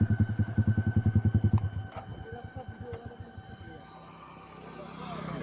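A Royal Enfield Classic 350 single-cylinder engine thumps with a loud, rhythmic idle beat up close before pulling away, joined by a Yamaha R15 motorcycle, the engine pulses slowing and fading into steady road noise.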